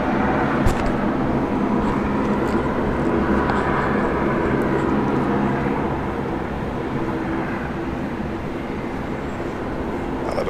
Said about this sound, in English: Another departure on the right side.